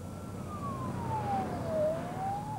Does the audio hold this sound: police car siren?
yes